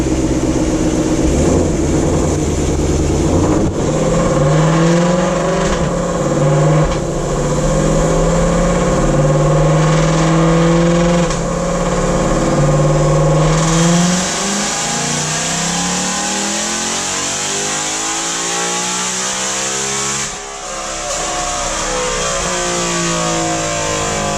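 A supercharged 2020 Ford Shelby GT500 engine on a dyno pull, roaring loud and rising steadily in pitch for over ten seconds, then easing off with a smooth, lower drone and supercharger whine continuing to the end.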